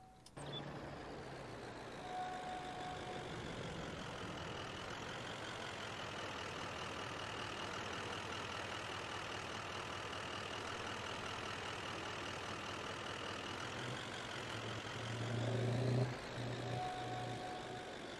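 Duramax pickup truck engine idling steadily in Farming Simulator 22, a continuous low rumble with a faint whine held for the whole stretch, rising briefly near the end.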